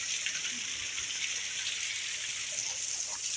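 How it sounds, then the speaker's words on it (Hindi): A waterfall drops into a pool on Adhaura hill in Kaimur, giving a steady, hissing rush of falling water that stays even and moderately faint, with no speech. "इधर पानी गिर रहा है, झरना।"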